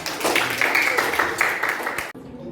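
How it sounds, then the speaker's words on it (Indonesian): Students in an eighth-grade classroom clap for a presenting group, a dense burst of hand claps with chattering voices mixed in, ending abruptly. "Yuk, tepuk tangan untuk kelompok."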